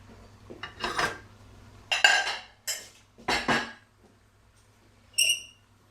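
Dishes, pots and cutlery being washed in a home kitchen while a lamb stew is cooked: several separate bursts of clattering and scraping, then a bright metallic clink near the end, close and moderately loud with no talking.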